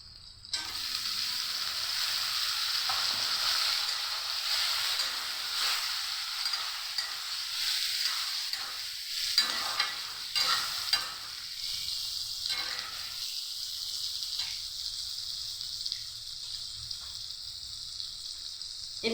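Drumsticks and potato pieces frying in hot tempered mustard oil while being stirred: a bright, continuous sizzle close by, broken by scraping and clinking stirs, settling toward a softer steady crackle.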